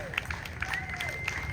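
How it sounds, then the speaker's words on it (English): A brief burst of applause from a crowd at an outdoor plaque dedication ceremony, steady clapping with a murmur of voices underneath. "So again, a big round of applause."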